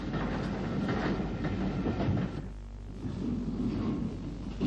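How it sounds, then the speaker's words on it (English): Irish railway locomotive number 138 hauls a mixed train at a branch junction in Kerry in the 1940s or 1950s, giving a steady rumbling roll of wheels and carriages throughout. "number 138, a locomotive frequently seen in pictures of the branch, makes up a mixed train at the junction"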